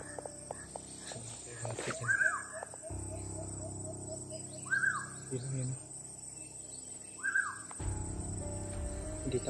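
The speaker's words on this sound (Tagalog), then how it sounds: "Yung mga ibon." Several bird calls ring out at intervals, bright and moderately close, over a low steady outdoor hum with a faint insect drone.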